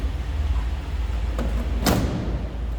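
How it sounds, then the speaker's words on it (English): A door on a 1955 Ford Thunderbird shuts, one short solid thump near the end of a brief quiet stretch over low background rumble, preceded by a faint click. "Door closes nicely."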